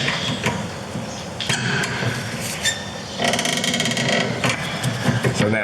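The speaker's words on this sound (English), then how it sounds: "I'll normally just get a screwdriver under it and give it a little bit of a" A screwdriver prying the rear brake caliper of a Nissan Qashqai+2 loose from the disc: a run of close metallic clicks, clanks and scraping knocks, irregular and bunched, with a denser rattle of clicking partway through.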